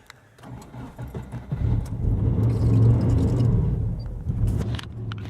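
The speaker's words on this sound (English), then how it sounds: "So we are in a Subaru Legacy GT twin turbo thingy that belongs to this guy." A Subaru Legacy GT twin turbo engine starts up, heard from inside the car as a rising rumble that settles into a steady, low idle, close and fairly loud.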